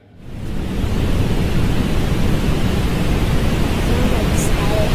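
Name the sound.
static in a recording of moon radio emissions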